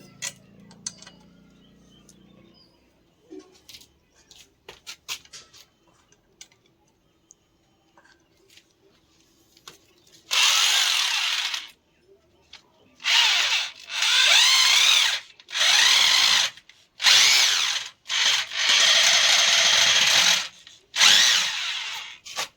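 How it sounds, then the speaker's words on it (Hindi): A power tool tightens a nut, giving several loud, close bursts of high whirring, each lasting about a second or two and separated by short pauses, after a quieter stretch of light handling clicks. "दोबारा से इसमें हम नट को कस लेंगे इस प्रकार से।"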